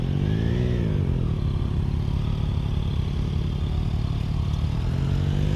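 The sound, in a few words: motorcycle riding and turning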